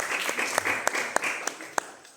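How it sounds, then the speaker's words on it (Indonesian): Audience applause at a digital media literacy outreach session: a steady wash of clapping with a few sharper, louder claps standing out, fading slightly toward the end. "Minta tepuk tangan."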